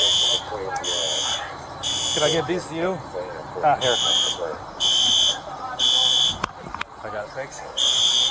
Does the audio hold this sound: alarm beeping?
yes